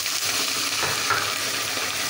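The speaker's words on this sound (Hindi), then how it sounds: "इसमें हमने ऐड कर दिया है और इसको अच्छे से भून लेना है।" Minced keema fries with browned onions in a pan, giving a loud, steady, close sizzle with faint stirring scrapes throughout and no voices.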